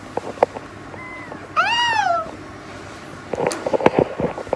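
A pet cat gives one clear, rising-and-falling meow in a quiet room, preceded and followed by faint scattered clicks and handling noises.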